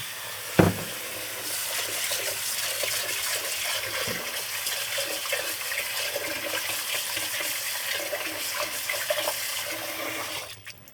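Grain and quinoa seeds are rinsed by hand in a bowl of water, a steady sloshing and swishing close up, opening with a sharp clunk and ending with a splash.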